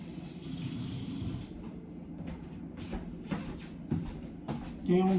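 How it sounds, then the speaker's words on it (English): A pot being filled with water from a kitchen tap while making wonton soup, a steady running gush for about a second and a half, then quieter clatter and handling sounds at close range. "And then I'm gonna fill it up with water."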